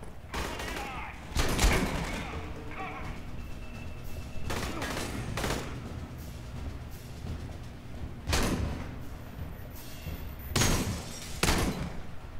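Shotgun blasts ring out in the video game Aliens Colonial Marines, several separate bursts spaced through the scene. They come fairly loud over quieter game background noise.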